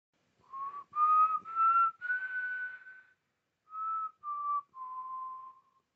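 A clear, wavering whistled melody of several sustained notes, rising then falling, with brief pauses between phrases; eerie and lonely, no other sounds.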